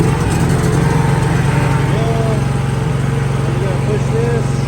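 Small engine of a Gravely Skidsteer 200 mini skid steer running loud and close, holding a steady throttled drone throughout while a voice speaks faintly over it.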